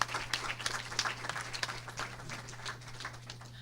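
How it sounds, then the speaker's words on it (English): Applause from an audience at a student race relations forum, a scattered patter of clapping with a constant low hum underneath, moderately loud and slowly thinning out. "Can we please give her a round of applause?"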